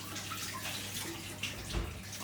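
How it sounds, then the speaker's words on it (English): Running tap water rinses hands in a home kitchen, a faint steady splashing hiss with a brief louder splash near the end. "I'm just going to rinse my hands."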